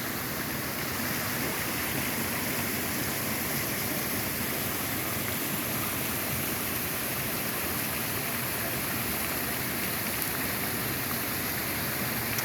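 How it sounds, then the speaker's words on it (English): A rushing waterfall and creek swollen after heavy rain roar as a steady, dense wash of white noise, close and loud throughout, with no voices. "that water is rushing like crazy"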